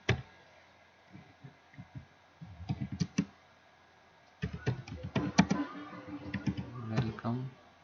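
Computer keyboard keys clack in uneven bursts, first sparse taps and then a quicker run of clicks, close and crisp, while an invitation card is typed with a faint voice underneath.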